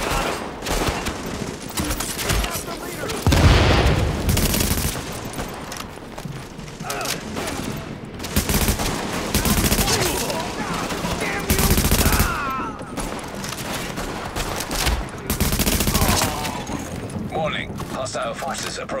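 Gunfire rattles through a firefight in Tom Clancy's The Division, with repeated loud bursts of automatic fire and booming shots in irregular clusters, while game voices and radio chatter call out over the fighting.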